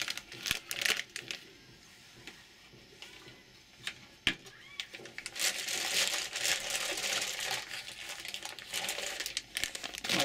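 Close, intermittent crinkling of a plastic bag, with sharp rustles and crackles in bursts that grow busier toward the end.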